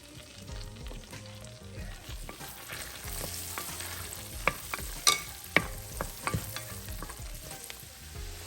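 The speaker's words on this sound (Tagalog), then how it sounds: "Lutuin natin ang garlic." Garlic frying in a pan for chicken adobo, a close, even sizzle with scattered sharp pops and stirring clicks growing busier toward the end, no voices.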